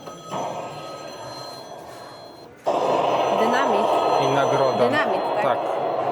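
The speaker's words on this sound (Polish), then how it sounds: "Telefon dzwoni i dzwoni." A telephone bell rings at a science museum exhibit, a bright repeated ringing that grows louder partway through and then carries on steadily, with people talking over it.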